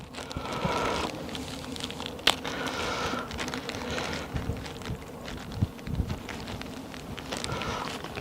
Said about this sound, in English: it's very, very windy here